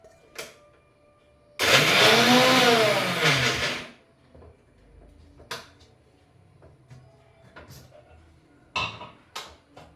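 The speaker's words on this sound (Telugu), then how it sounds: "వేయించుకున్న పల్లీలు పచ్చిమిర్చి ఇవి కూడా ముందు మనం మిక్సీ పట్టేసుకోవాలి" A kitchen mixer grinder whirs loudly for about two seconds as it grinds roasted peanuts and green chillies. Scattered clicks and handling knocks follow.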